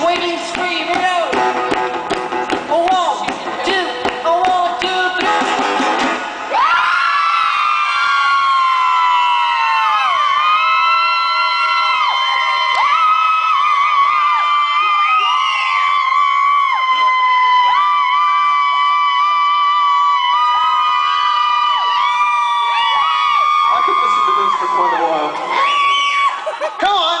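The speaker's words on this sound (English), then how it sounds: "To let loose with a high-pitched waving scream" An audience at a St. Patrick's Day Celtic coffeehouse concert lets loose sustained high-pitched waving screams and whoops, loud and continuous after a noisy opening, with wavering tones weaving through the crowd.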